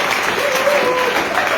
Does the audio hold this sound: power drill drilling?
no